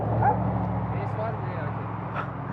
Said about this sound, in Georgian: აი ის ძაღლი, რომელიც რაღაც აგრესიული არის